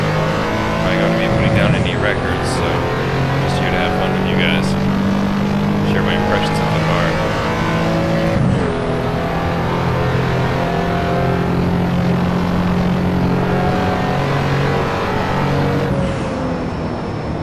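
Engine of a 1987 RUF CTR Yellowbird street car driven on track in the Assetto Corsa video game, a loud continuous drone with rising and falling revs and gear changes, and someone talking over it.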